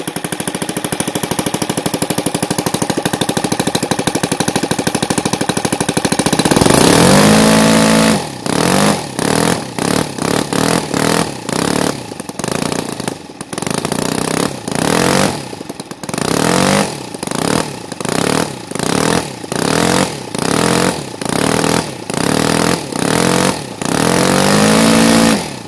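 Model aircraft engine, an NGH FG-38 with CH ignition timed to 30 degrees BTDC, idling steadily then revving in a long run of sharp repeated bursts, loud and close with no talk.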